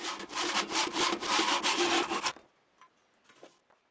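A handsaw cuts through the wooden head of a ball head war club in steady, rhythmic rasping strokes, loud and close for about two seconds before stopping, followed by a few faint knocks.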